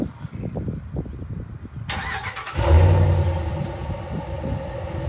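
A 2018 Dodge Ram Big Horn pickup with its stock exhaust, before a muffler delete, starts up and settles into a steady low idle rumble, close and moderately loud, after a brief stretch of softer knocks and shuffling.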